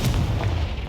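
A Confringo spell blast in Hogwarts Legacy, a single short, loud, close boom with a booming low thump that quickly fades.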